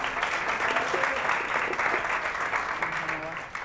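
A studio audience on a Catalan TV word quiz show applauds contestant Natàlia, a steady close burst of clapping lasting a few seconds with a voice talking over it.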